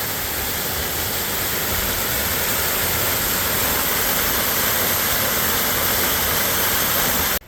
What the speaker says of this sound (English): at the Miner Run waterfall